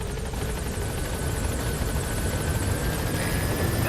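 Helicopter arriving at a landing zone in the Metal Gear Solid V video game, a loud, steady whirring rotor roar with rapid blade chop and a faint engine whine, continuous and close with no talk.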